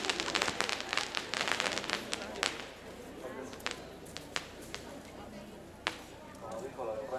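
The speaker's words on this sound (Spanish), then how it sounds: "vean los cohetes." Fireworks rockets burst during a foot pilgrimage to Tepeyac, a dense run of sharp cracks and pops that thins into scattered bangs, with people talking underneath.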